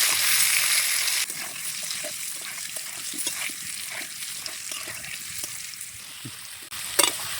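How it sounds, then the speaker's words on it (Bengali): Potatoes sizzle in hot oil with turmeric and salt for Bengali egg khichuri, a continuous frying hiss with repeated light spatula stirs and scrapes, one louder clatter near the end. "আলু ভাজা হয়ে গেছে, এবার তুলে নেব"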